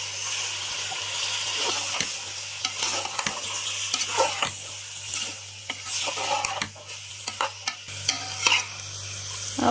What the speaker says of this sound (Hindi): हम इस दोनों चीज़ों को अच्छी तरह से मिक्स कर लेंगे और मिक्स करने के बाद 5 मिनट हम गाजर को भी पकाएंगे।